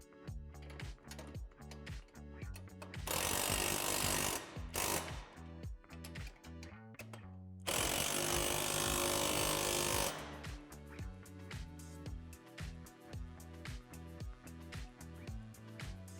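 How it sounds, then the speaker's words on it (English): A power tool tightens the hardware joining the extension arms to the backboard brackets of a Lifetime Pump Adjust basketball system in two sustained whirring bursts, heard over steady background music. "Now go ahead and tighten the hardware, connecting the extension arms to the backboard brackets."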